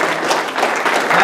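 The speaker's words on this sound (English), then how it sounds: "Give yourselves a very big hand" Dense, continuous audience clapping fills a hall as the crowd gives itself a big hand, a loud, steady wash of many hands with no voices over it.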